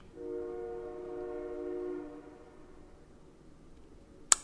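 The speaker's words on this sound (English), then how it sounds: "There goes the train." A train horn sounding in the distance, one sustained multi-tone blast lasting about two seconds that fades out, followed by quiet rumble and a sharp click at the end.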